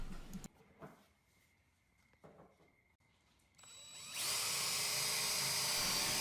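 A power drill driving screws down through the top of a walnut and cherry aquarium cabinet, quiet shop sounds giving way to a loud, steady whir in the last two seconds.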